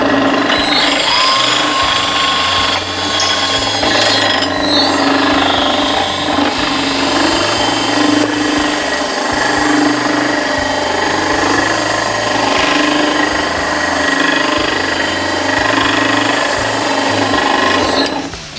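A floor scraper machine runs in reverse, a loud, steady mechanical drone with a rattling, chattering motor tone and slight fluctuations, continuing throughout without talk.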